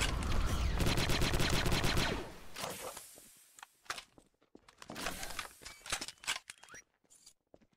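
Rapid bursts of blaster fire from Gmod Star Wars RP crackle loudly at first, then give way to scattered sharp shots and impacts against a shield, near and punchy with no talking.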